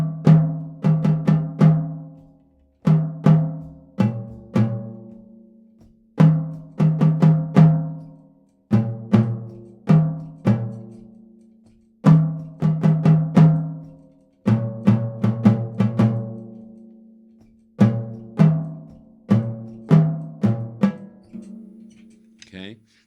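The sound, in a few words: melodic rhythm of a tune played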